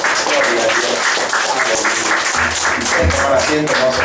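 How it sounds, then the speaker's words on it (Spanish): Church congregation at a Bethel church service in Lima applauding in praise, steady dense clapping mixed with voices and some music underneath, moderately loud throughout. "Den un aplauso a nuestro Señor"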